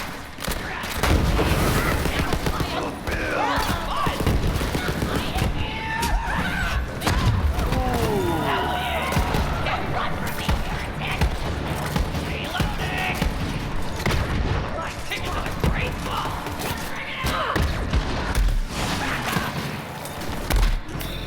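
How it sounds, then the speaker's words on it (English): Dense, continuous gunfire and booming explosions from exploding headshots in the Borderlands 3 video game, loud and sustained throughout with thumps and blasts, and a voice talking faintly underneath at times. "Exploding headshots, oh so satisfying."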